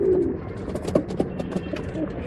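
A pigeon at a Bangalore pigeon sale gives a few soft, low coos close by, with faint background noise and no speech.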